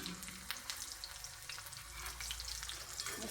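Green chilies crackling in a hot oil tempering for sabudana khichdi, a steady soft sizzle throughout at close range, with faint stirring and no voices.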